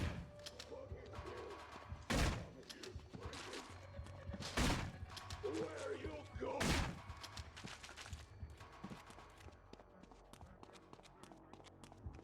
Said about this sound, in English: You're like enjoying the satisfaction of using a pump shotgun now.